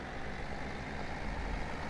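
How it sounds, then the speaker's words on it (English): A New Holland TS tractor engine in Farming Simulator 17 fires up and settles into a steady, loud diesel rumble that holds evenly throughout, with no talking. "nice sounding tractor, nothing wrong with that"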